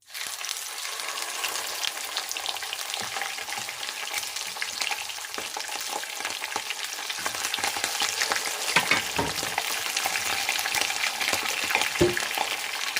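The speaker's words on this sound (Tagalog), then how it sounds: "So ilagay na natin ang ating fish." Pompano fish frying in a hot pan, a loud, dense, continuous sizzle and crackle close up, with a few sharper spits and clatters near the end.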